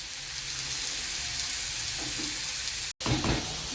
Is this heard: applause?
no